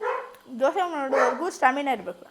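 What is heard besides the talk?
dog barking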